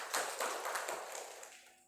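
Audience clapping at a Janmashtami function, a short burst of many hands applauding at moderate distance that fades out within about two seconds.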